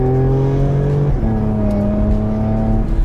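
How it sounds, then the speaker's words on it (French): A Porsche Macan S engine revs hard and steady, with a clear pitch drop and jump partway through as the gearbox downshifts on its own, loud and close with no talking. "elle vient de rétrograder à 4200 tours minute"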